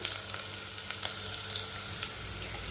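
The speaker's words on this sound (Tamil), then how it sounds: "பூண்டு போட்டுங்க நல்லா ஃப்ரை ஆகட்டும்" Onion, chilli, ginger and garlic frying in oil in a pan for a rice and dal dish, a steady, fairly faint sizzle with light crackles and a few soft stirring clicks, no voices.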